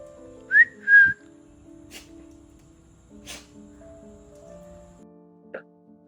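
Pressure cooker whistles while Kerala chicken and vegetable stew cooks: two short, loud, tonal blasts close together near the start, followed by a quiet stretch with only a few faint clicks and ticks.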